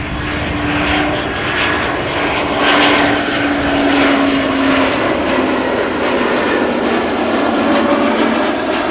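A German Airways Embraer 190 jet airliner at Amsterdam Schiphol Airport produces a loud, continuous engine roar with broadband rushing noise, sustained throughout without pauses or voices.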